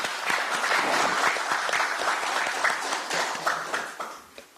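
An audience at a Korean presidential campaign election committee rally in Gwangju bursts into applause, a dense patter of clapping that holds steady for several seconds before thinning and fading away.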